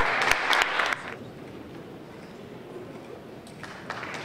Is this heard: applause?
yes